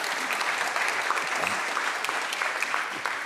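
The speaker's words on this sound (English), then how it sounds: "Don, round of applause," Conference audience at an AI developer event applauds speaker Don Syme, a steady wash of many hands clapping at moderate level, continuous throughout without talk.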